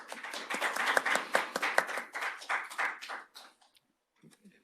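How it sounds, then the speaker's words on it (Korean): Audience applause at an accounting seminar welcomes a professor to the stage, a burst of clapping lasting about three seconds before it thins to a few scattered claps and stops. "큰 박수로 맞으시기 바랍니다"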